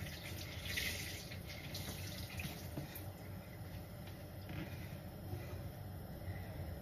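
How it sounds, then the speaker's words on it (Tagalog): Dishes being washed at a kitchen sink, with a steady stream of tap water running and splashing quietly and continuously throughout, no voices. "habang ako ay nag-aantay, ako'y naghuhugas ng plato."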